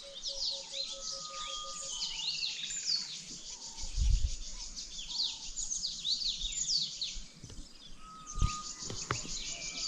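Wild birds chirping and calling around Shingwedzi Camp in the bush, a steady chorus of high twittering song with insects buzzing underneath and a few low thumps.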